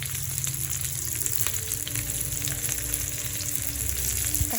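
Cumin, onion, garlic and dried chillies fry in a pan for pirandai chutney, with a dense, even sizzle that runs unbroken and close throughout.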